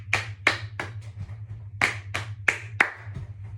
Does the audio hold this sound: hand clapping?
yes